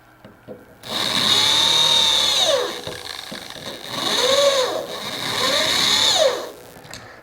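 A sharp drill bit boring a hole through a ZF8HP45 transmission piston backed by a wood block: a steady high-pitched whine in long passes, rising and falling as it cuts, loud and close with no talk.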